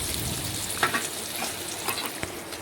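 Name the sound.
onions frying and being stirred in oil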